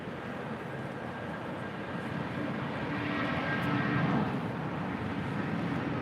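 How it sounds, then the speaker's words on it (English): An Avianca A320neo arriving on runway 7 right at LAX, inbound from Guatemala City, heard as a distant steady jet roar that slowly swells louder toward the end. "We do have an Avianca A320neo,"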